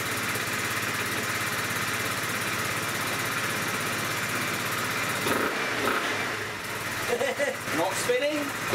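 A GY6 125cc scooter engine runs steadily after a clutch and variator repair, a constant buzzing drone that drops off near the end, followed by a few clattering knocks.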